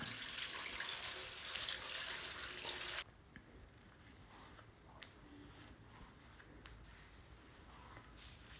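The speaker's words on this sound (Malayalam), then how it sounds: "ഇനി നമുക്കൊന്ന് കഴുകിയെടുക്കാം" Running tap water gushes loudly for about three seconds over spinach leaves, then cuts off, leaving soft handling and dripping sounds.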